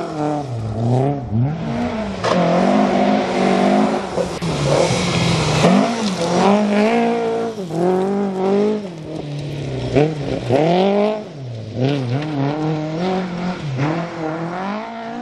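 A Ford Escort historic rally car drives hard along a stage of the Malcolm Wilson Rally, its engine revving loud and close through repeated gear changes, rising and falling continuously with no talk.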